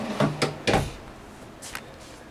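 Large, wide drawers that run almost the full width of the aisle in a Winnebago 2225RL RV being opened and shut, a few quick close sliding thumps and clacks followed by a fainter bump.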